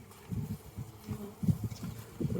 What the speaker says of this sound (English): little bit of wax on the landing board that I broke off the frame earlier, so the bees are going to town on that